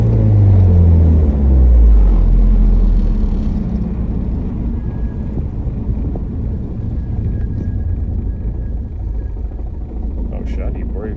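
A car with squeaking brakes being driven, its engine note sweeping loudly downward at first, then settling into a steady, close, droning rumble that carries on alone.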